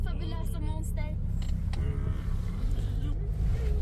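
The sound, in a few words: Range Rover car running in drive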